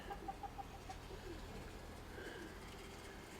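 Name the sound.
pigeons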